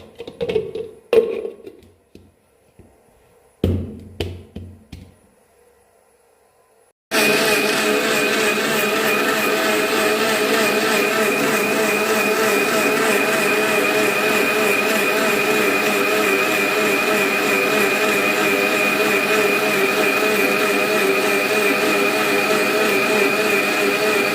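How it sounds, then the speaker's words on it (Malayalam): Ragi dosa batter is ground in a mixer grinder. After some handling clatter and short pulses, the motor starts with a loud, steady, close whirring roar that lasts nearly twenty seconds without a break. "അപ്പോൾ നമുക്ക് നന്നായിട്ട് അരച്ചെടുക്കാം"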